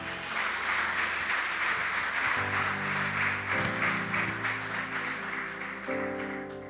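A Spanish-language church congregation bursts into broad, continuous applause while sustained keyboard-like chords shift beneath it; the clapping stays fairly even before easing off near the end.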